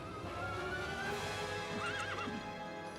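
In the Disney Dreamlight Valley video game, a horse whinnies in a rising, wavering call over soft clip-clopping hooves and background game music, close and clear.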